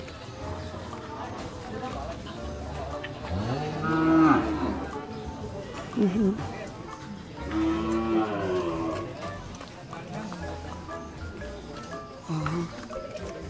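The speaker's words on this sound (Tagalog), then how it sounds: "Mukhang mabigat talaga itong nabiling baka ni Kabeng Nalon" Cattle at a rural livestock market in the Philippines give several loud, drawn-out moos at intervals, with background voices and crowd noise throughout.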